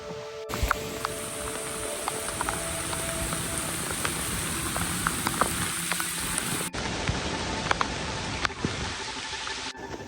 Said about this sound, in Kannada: ಹೆವಿ ಮಳೆ, ಹೆವಿ ಅಂದರೆ ಹೆವಿ ಮಳೆ.